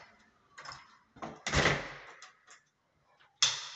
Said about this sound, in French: On ferme la porte.